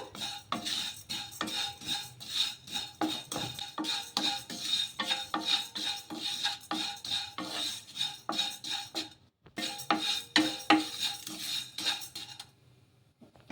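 Vermicelli roasting in a pan while a metal spoon stirs it, rhythmic scraping and clinking strokes repeating about once a second, pausing briefly before a final burst and then stopping.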